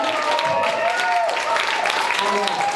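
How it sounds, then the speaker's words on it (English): Conference audience in Minneapolis claps and applauds in a sustained, even wash, with voices and talk mixed in over it. "keep clapping"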